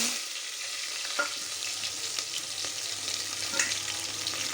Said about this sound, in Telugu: ఆయిల్ హీట్ అయిన తర్వాత ఇవి జీలకర్ర ఆవాలు మెంతులు వేసుకుంటున్నాను